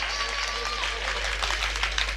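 Village poetry recital audience in Khedawad clapping, a continuous dense patter of applause with a low hum underneath and a voice faintly over it.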